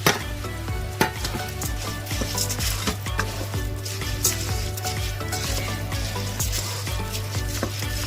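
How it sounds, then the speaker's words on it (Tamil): Three cups of samba rice fry in a pot for Sri Lankan lamb rice, with a dense continuous sizzle, occasional knocks from stirring, and a low steady hum underneath. "இப்போ 3 கப் அரிசி நான் சேர்க்கிறேன்"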